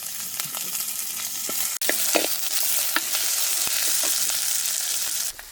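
Ingredients sauté in oil in a pan during a village seafood feast cook-up, a loud continuous sizzle broken by scattered scrapes and taps of a stirring spoon, with a brief sharp drop in sound near the start.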